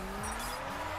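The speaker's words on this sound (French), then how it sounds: "On va faire un dernier petit drift." A RUF CTR-3 drifting in The Crew, its tires squealing in a sustained high screech over a droning engine whose pitch slides downward through the short burst.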